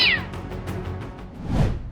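A cat meows, a rising-falling cry at the start followed by a second, lower meow near the end, fairly close with a rough background around it.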